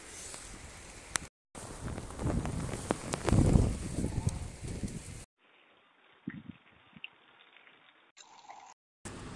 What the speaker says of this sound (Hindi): तो बारिश बहुत ज़्यादा तेज़ हो रही है